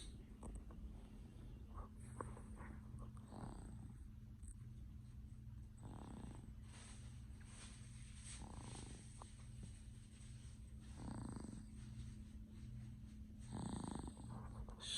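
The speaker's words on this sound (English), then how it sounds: "Snoring her life away." A sleeping baby snores softly in a quiet room, faint breathy rasps repeating in a slow, uneven rhythm, close by with no voices.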